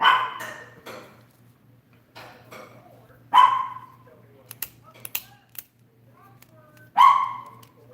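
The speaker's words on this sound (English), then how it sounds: "My dog said good night, Ray Mac." A pet dog gives three short, loud barks spaced a few seconds apart, close by, with faint mechanical clicking and a low steady hum between them.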